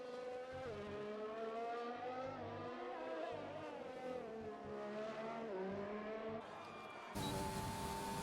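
A Formula 1 car from the F1 2020 video game runs a dry qualifying lap at the Russian GP, its engine whining steadily and shifting pitch through gears, loud and continuous, with a sharper surge of noise near the end.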